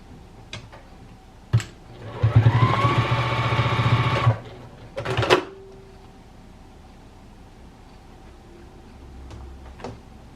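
Sewing machine stitching darts on a fabric teddy bear: a single close, loud burst of rapid mechanical whirring lasting about two seconds, framed by a few sharp clicks and knocks before and after in an otherwise quiet room.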